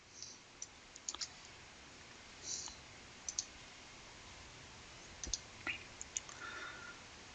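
A computer mouse clicks on a screen icon: a few faint, sharp, isolated clicks spread unevenly through a very quiet stretch with no talking.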